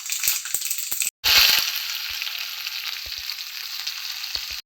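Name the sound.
shallots, curry leaves and dried chillies frying in tempering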